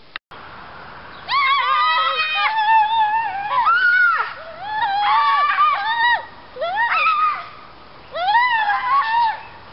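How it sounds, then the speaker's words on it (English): Two people run around in circles screaming, giving out long, loud, wavering shrieks in several bursts, some overlapping, with brief pauses between them and no other sounds. "to run around screaming in circles"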